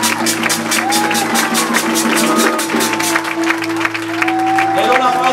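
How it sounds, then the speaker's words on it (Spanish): A church congregation applauds for the Lord with steady, loud rhythmic clapping over sustained musical tones. "Denle un aplauso más fuerte al Señor"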